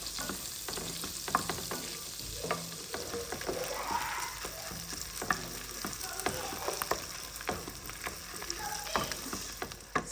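Butter and tomato paste fry in a pan with a steady close sizzle, broken by frequent scraping stirs and small clinks of a utensil, with no talking.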